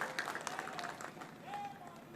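Audience clapping at a public event, a loose patter of hands with a voice speaking over it throughout.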